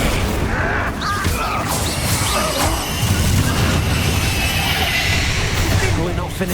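Incendio fire spell cast in the video game Hogwarts Legacy, a dense, roaring burst of flame and crackling blasts sustained loudly throughout, with booming impacts layered over a steady rush of fire.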